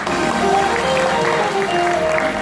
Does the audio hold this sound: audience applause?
yes